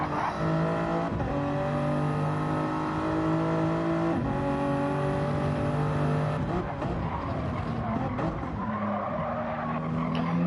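A Toyota Supra race car in a night race screams at high revs with squealing tires, its engine note repeatedly dropping and climbing through shifts as other cars roar close by.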